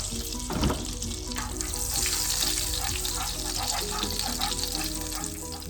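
Two tablespoons of cooking oil heat in a pan and sizzle steadily, a dense crackling hiss that stays fairly loud and constant throughout, with a brief clatter near the start and no talking.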